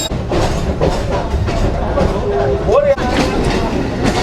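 A crowded passenger train rattles and sways, with a continuous clatter of wheels and carriage, a brief squealing tone near the end, and voices talking inside the car.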